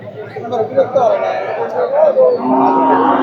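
A cow moos in long, drawn-out calls at close range at a cattle market, with a young calf nearby and people chattering in the background.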